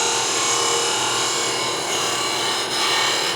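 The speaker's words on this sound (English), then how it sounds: "A little shear scraping will do it." Steady shear scraping across the surface of a wooden scoop to take out bumps, a continuous dry rasping scrape, loud and close, with no pauses over its length.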